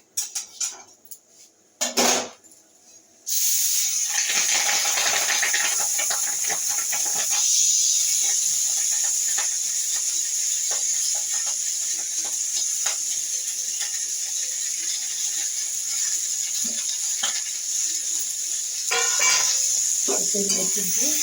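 Soaked, drained jeera kathi rice hits hot oil and sets off a loud, steady sizzle and hiss, after a few clinks of pots and utensils at the start, for fried rice.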